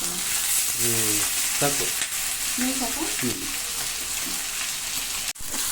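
Bangda (mackerel) fish sizzling steadily in oil on a tawa, a loud continuous frying hiss close by, with a voice speaking briefly over it and a short clatter near the end.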